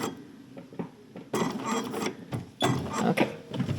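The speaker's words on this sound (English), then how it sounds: "I'm going to stitch down and sink my needle, and then check" A sewing machine stitches rickrack scallop trim onto a fabric placemat, its needle running in short mechanical bursts separated by pauses, close and fairly quiet with no talking.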